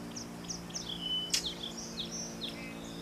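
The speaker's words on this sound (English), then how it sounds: "bird chirping behind me." A bird chirps repeatedly behind a speaker indoors, short high tweets with descending sweeps arriving in a steady series over a low humming background, moderately close.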